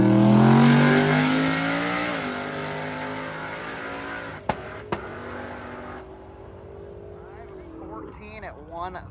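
A race car called the Dirty Bird makes a drag strip pass at a street race event, its loud engine note sweeping up through gears then fading into the distance, followed by a couple of sharp pops and crowd noise with talk.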